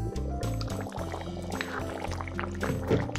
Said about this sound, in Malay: Kemudian tambah air kesemuanya dalam 4 ke 6 cawan.